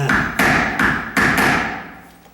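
A screwdriver is struck with a hammer against a putty knife on a door strike plate, four sharp metallic taps at an even pace, each ringing and decaying, close and alone.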